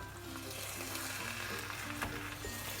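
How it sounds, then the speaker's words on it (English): Ghanaian jollof rice cooking in a pot, a faint steady sizzle and simmer with soft scraping from a flat spoon stirring, fairly distant and continuous, no voices. "I'm stirring it up."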